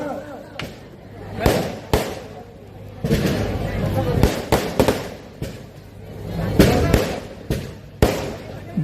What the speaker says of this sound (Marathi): हे फटाके थांबवा जरा